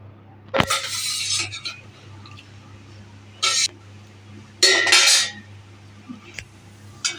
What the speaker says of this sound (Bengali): এবার লাউগুলো সিদ্ধ করে রেখেছিলাম লাউটা দিয়ে দিচ্ছি